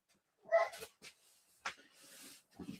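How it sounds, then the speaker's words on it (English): A dog in a cave-like room gives a few short, quiet barks and whimpery yelps, scattered irregularly across a few seconds with silence between them. "Just barking"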